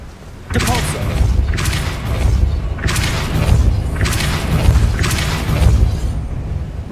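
The Depulso spell cast in the video game Hogwarts Legacy gives repeated loud booming blasts with whooshing bursts, about five forceful thumps in quick succession over an ongoing rumble.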